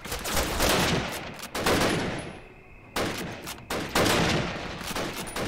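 A big mounted gun fires in Call of Duty United Offensive, loud rolling bursts of heavy gunfire with a short lull in between, close and dominant.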